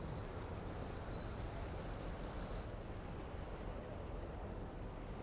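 Ocean waves surging and breaking on rocks along a shoreline, a steady loud wash of surf with wind across the microphone, continuous and without talk.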